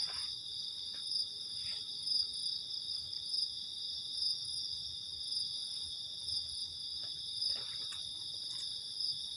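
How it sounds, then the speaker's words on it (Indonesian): Crickets chirp steadily through the night at a campsite, a dense, continuous high trill with no pauses, moderately loud and close with no voices over it. "Jangkrik."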